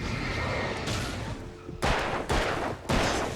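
Three loud, sharp gunshots from a six-shot gun ring out in quick succession in the video game Alan Wake, preceded by a tense rustling ambience.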